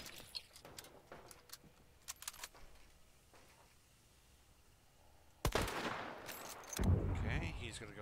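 Gunfire in a shooter video game: sparse sharp shots early on, then a louder burst of heavier firing and rumbling impacts near the end.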